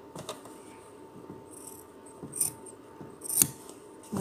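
Scissors snip through fabric for a face mask in a few sharp, crisp cuts spaced out over a quiet background, close and fairly soft.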